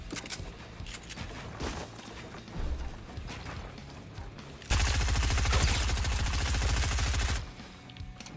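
Dense, rapid automatic gunfire from a squad-based shooter video game, a sustained loud burst of machine-gun fire in the middle amid scattered shots and mechanical clatter.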